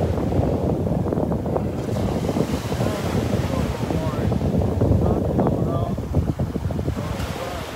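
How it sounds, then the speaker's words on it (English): Steady wind and surf on Vanderbilt Beach, a continuous broadband wash of breaking waves and gusting breeze buffeting the microphone, loud and close throughout with faint voices now and then. "Oh yeah, the waves and that breeze, boy. Isn't that wind something else?"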